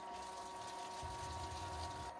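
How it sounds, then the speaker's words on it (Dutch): Water pouring steadily into a portable camping toilet, a continuous gushing fill with a low rumble that runs unbroken and fairly quiet throughout. "Nou, dit is een vullen van een portapotty."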